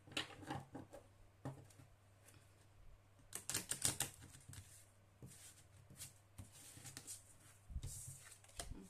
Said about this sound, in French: je vais bien mélanger le jeu comme je l'ai fait tout à l'heure